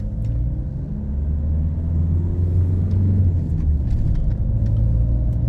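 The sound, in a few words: long car turning in front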